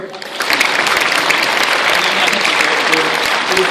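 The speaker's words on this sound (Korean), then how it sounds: "다시 한번 박수." Loud, dense applause from a church gathering bursts in after a short lull and continues as a steady roar of many clapping hands, with a voice faintly audible beneath it.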